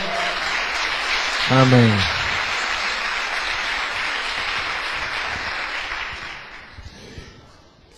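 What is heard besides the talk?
congregation applause for the minister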